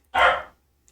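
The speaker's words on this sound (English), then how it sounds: "dog going off, he wants to play" A single short bark from a playful dog, sharp and fairly close, followed by silence.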